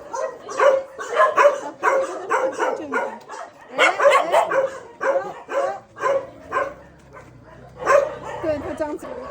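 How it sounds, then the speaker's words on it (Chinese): Several stray dogs around volunteers at a stray dog rescue event in Chiang Mai, Thailand, bark and yip in short close bursts, with people talking excitedly over and between the barks. "看狗狗都围着我们坐着"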